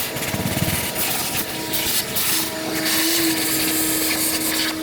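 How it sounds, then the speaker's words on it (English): Vacuum cleaner running steadily to suck debris from around the fuel pump connector of a 2006-2015 Lexus IS250, a continuous whooshing drone with a rising whine partway through, fairly loud and with no talk. "I'm going to use a vacuum and vacuum all of this debris away"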